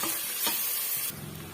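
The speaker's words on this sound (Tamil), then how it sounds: "சேர்த்துட்டு இந்த பச்சை வாடை போற வரைக்கும் வதக்கி விட்டுக்கலாங்க" Ginger garlic paste sizzles loudly in hot oil with a steady frying hiss while sautéing for a mutton dish, then the sizzle softens abruptly near the end.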